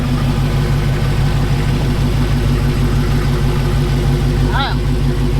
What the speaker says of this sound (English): Let me warm up the tires.